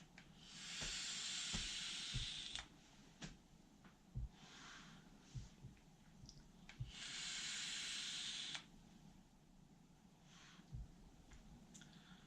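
Vaping on a Wotofo Profile mesh RDA at 50 watts, heard as two long, close, steady hissing draws a few seconds apart, with faint softer puffs and small clicks in between, no talk.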